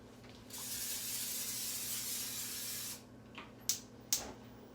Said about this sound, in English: I'm using my Pam spray.